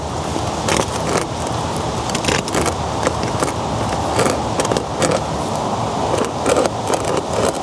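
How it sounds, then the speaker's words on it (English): Grease gun pumping grease into a Land Cruiser prop shaft fitting, repeated close scraping, clicking strokes over a steady background noise, with no talk. "I'm going to push my grease fitting on here, and I'm going to pump until I start to see my yoke start to move"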